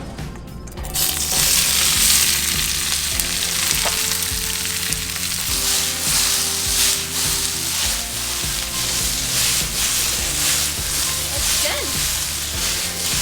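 Scallions, red and yellow peppers and onion fry in an oiled skillet, giving a loud, steady sizzle with occasional stirring clatter, continuous throughout with no one speaking.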